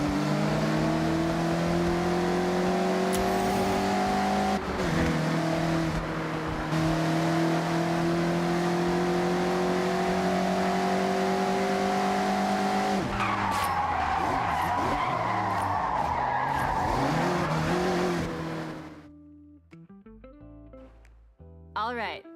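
Mazda MX-5 drifting in a video game, a loud continuous engine drone with shifting pitch and tire squeal layered over it through most of the run, then cutting off abruptly near the end.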